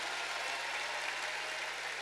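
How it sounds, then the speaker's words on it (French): Applause from a large concert-arena crowd at the Zénith in Nancy, greeting a performer named Margot; a steady, dense wash of clapping that stays fairly even and moderately distant throughout, with no voices on top. "faites-moi un tonnerre d'applaudissements pour Margot"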